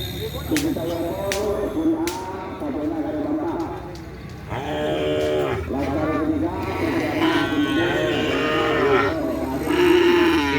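A karapan racing bull on Sapudi Island lows with drawn-out moos throughout, under steady background noise and a person talking nearby.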